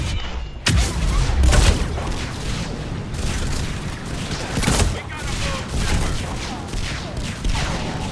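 Explosions and gunfire crash throughout a Mass Effect 3 battle, dense repeated blasts and bursts of shooting layered over constant rumbling combat noise, with a speaking voice underneath.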